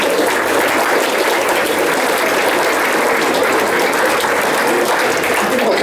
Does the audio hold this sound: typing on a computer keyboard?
no